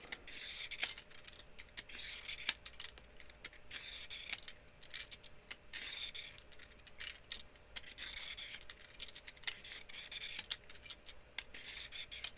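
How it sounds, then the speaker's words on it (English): Vegetable peeler scraping the skin off a daikon radish, giving steady raspy strokes repeated one after another, close and fairly quiet, with no talking. "use the peeler to peel off"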